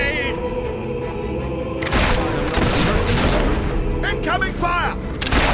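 A Fable III combat scene with a grenade blast and gunfire: a heavy burst of booming, crackling fire erupts after a steady background hum, while shouting voices call out over the chaos.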